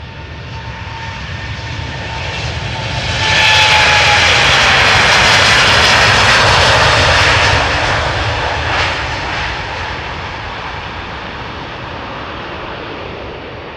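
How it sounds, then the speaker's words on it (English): An American Airlines Boeing 787-8, two years old, departs Amsterdam Schiphol Airport. Its jet engines make a broad roar that swells to a loud peak mid-clip, then slowly fades as it passes. "What is coming our way immediately is American Airlines flight 221 going to Dallas-Fort Worth, Texas, Boeing 7878."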